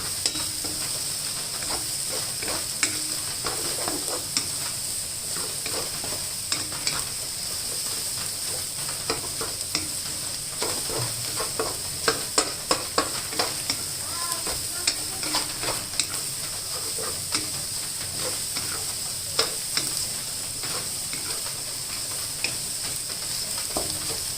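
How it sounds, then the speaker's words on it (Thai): Eggs with shrimp roe stir-fried in a pan give a steady close sizzle and hiss, with frequent scraping clicks of the spatula and a busy cluster of sharper knocks near the middle, and no voices. "ผัดไปมาค่ะจนสุกเลยค่ะ จนหอมเหลืองเลยนะคะ"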